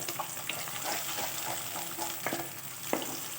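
Two beaten eggs with a pinch of salt fry and are stirred into crumbly scrambled pieces in a pan, giving a soft, continuous sizzle with occasional light scrapes, fairly quiet and without talk.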